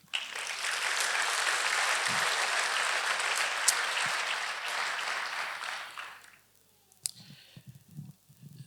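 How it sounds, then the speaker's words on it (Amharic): A church congregation applauding together, dense sustained clapping for about six seconds before it fades out, followed by faint scattered noises. "ለዚህ ቃል አጨብጭቡ እስቲ"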